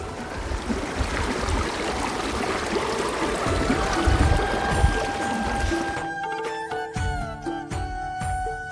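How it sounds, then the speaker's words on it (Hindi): Glacier meltwater stream in the Miyar Valley of Himachal rushes steadily and loudly nearby, a continuous broadband wash of flowing water with no voices over it. "ये सारा ग्लेशियर का पानी है।"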